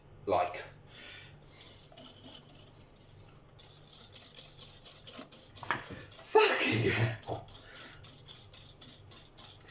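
Brownie batter whisked by hand in a bowl makes quiet scraping and tapping strokes, with one louder burst of rapid clatter near the middle.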